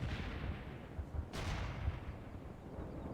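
An artillery barrage rumbles in the World in Conflict wargame, with low repeated booms and one sharp crack amid a continuous dull roar of distant detonations.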